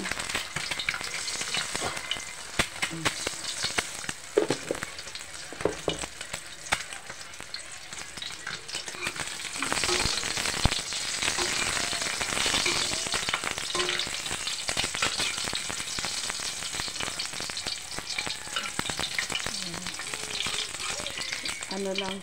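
A sunny-side-up egg fries in a pan with a steady, crackling sizzle that runs unbroken, joined now and then by clinks and stirring. There is almost no talk.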